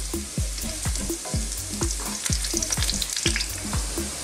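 Garlic frying in a pan makes a constant close sizzle, punctuated by regular scraping strokes of a utensil about every half second.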